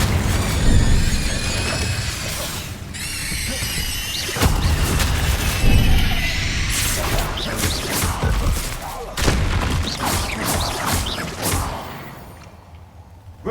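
Incendio fire spells in the video game Hogwarts Legacy burst out as loud whooshing blasts and booming impacts, several in quick succession over a dense, crackling magical battle mix.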